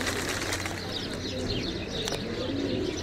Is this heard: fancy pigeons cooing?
yes